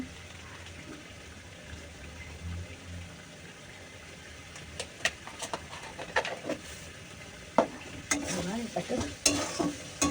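Cauliflower and boiled potatoes stir-fried with turmeric and chili powder, a soft sizzle that grows busier as spatula scrapes and knocks against the pan come in irregular bursts, close by and without speech.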